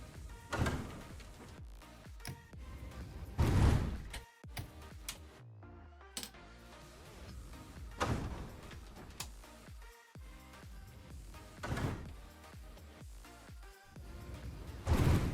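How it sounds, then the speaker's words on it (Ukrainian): Doors of an 81-717/714 metro train being cycled during a depot inspection: repeated mechanical clunks and sliding thuds in several bursts over a steady background hum, fairly close, with no talking. "Перевіряємо двері за схемою, яка була оголошена раніше."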